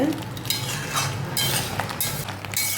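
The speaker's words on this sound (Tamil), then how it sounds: "5 நிமிஷம் கழித்து மூடியை திறந்து நண்டை நல்லா கிளறி விடுங்க" Crab masala cooked in a pan for a crab pepper roast is stirred up after being lidded on low flame, giving a soft sizzle under quick scraping strokes and light clinks of the spoon, close and brief.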